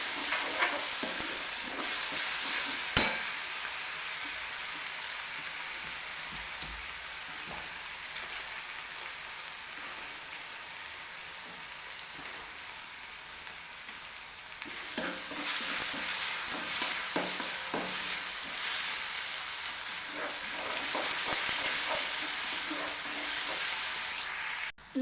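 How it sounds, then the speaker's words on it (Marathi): Onion paste sautés in a pan for drumstick curry, a continuous soft sizzle broken by occasional stirring scrapes and clinks, growing a little livelier in the second half, with no speech. "आता कांद्याला मस्त मी परतून घेते."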